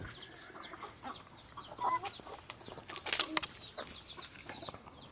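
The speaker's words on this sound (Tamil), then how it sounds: "அவ்வளோ கோழியும் குவிஞ்சு சாப்பிட்டுட்டு இருந்து" Chickens crowded together pecking at scattered bran feed around midday, with soft clucks, scattered calls and brief wing flaps close by over a quiet farmyard background.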